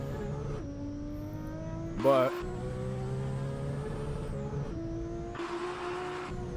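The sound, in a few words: car engine in video game Assetto Corsa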